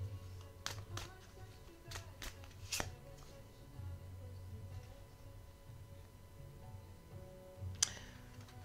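Quiet, close card handling for a tarot-style reading: short papery flicks and snaps of cards being shuffled and drawn, a few crisp bursts spread across the stretch over a soft background hum.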